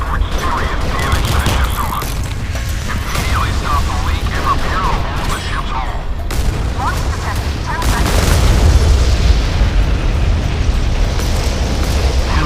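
Warship cannons fire and shells explode in the naval battle game Modern Warship, with repeated deep booms and cracks at close range while a player talks excitedly over the gunfire.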